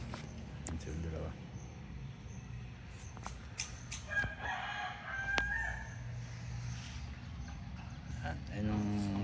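A four-month-old McLean x Miner blue rooster crows and clucks at a distance, mixed with a steady background hum and occasional faint voices.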